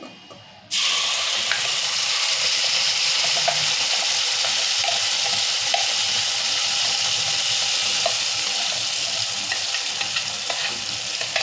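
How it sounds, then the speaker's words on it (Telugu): Tomato paste hits a hot pan with a sudden loud burst of sizzling that settles into a dense, continuous frying hiss with faint scraping, close and with no talk. "ఇప్పుడు టమాటా పేస్ట్ వేసుకుందాం"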